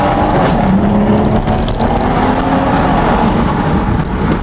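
A Stage 2 tuned BMW M140i, rear-wheel drive and set to Sport Plus, launches hard from a standstill; a loud, continuous engine roar fills the whole stretch, close and steady with no talk over it.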